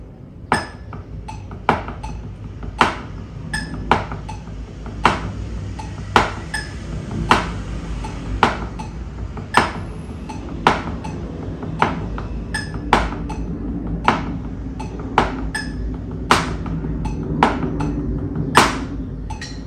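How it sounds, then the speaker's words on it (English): Sharp, evenly spaced clicks of a metronome at 80 tick steadily over soft, rapid tapping of sticks on a practice pad playing double paradiddles, close and continuous. "hopefully you could hear the metronome and the pattern on the pad"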